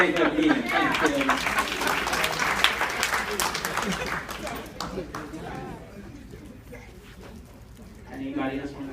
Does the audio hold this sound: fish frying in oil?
no